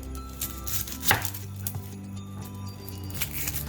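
A knife chops through an onion on a board in a few quiet, scattered cuts, including one sharper strike, with faint kitchen background and no speech.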